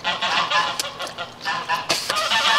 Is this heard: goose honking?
yes